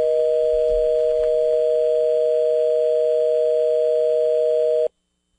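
Steady telephone dial tone from an open phone line, a loud continuous hum with a faint knock early on, cutting off abruptly just before the end.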